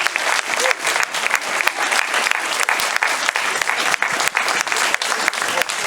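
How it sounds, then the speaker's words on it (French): Concert audience applauding the flute and clarinet players of an amateur wind orchestra, a dense, lively clatter of clapping with sharp individual claps standing out, continuous and fairly loud throughout. "on va applaudir les flûtistes et les clarinettistes"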